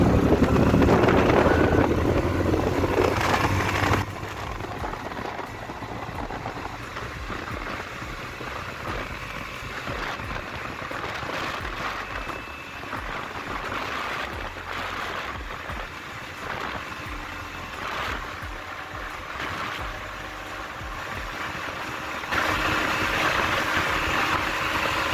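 A motorcycle fitted with a larger chain sprocket accelerates hard through first, second and third gear, its engine drone steady and loud throughout with a louder surge near the start and again at the end.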